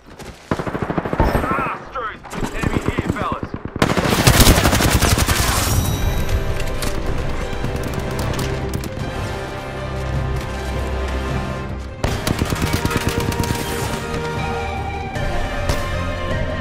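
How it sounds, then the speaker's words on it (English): Rapid bursts of automatic gunfire from an Apex Legends match at Hammond Labs, loud and sustained, with repeated volleys and booming shots layered over game effects and brief in-game voice callouts. "Opening fire. Taking fire. They're shooting at me."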